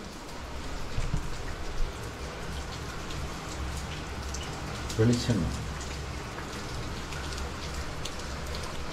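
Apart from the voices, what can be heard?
rain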